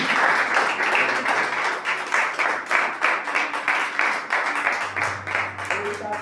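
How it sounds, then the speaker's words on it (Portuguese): A church congregation claps in praise during a Portuguese-language sermon, with rhythmic, fairly loud hand claps repeating steadily throughout and no clear talking over them. "Um louvor de palmas ao nosso Deus"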